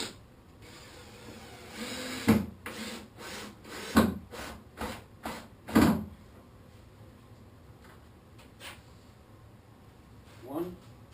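A screw is driven into a board on a workbench in short, sharp bursts, a cluster of loud clicks and grinding pulses in the first six seconds, then quieter handling and one more brief burst near the end.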